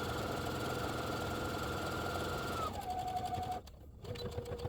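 A sewing machine back stitching the seam of a zippered project bag, running steadily and close, pausing briefly before resuming its rhythmic mechanical whir.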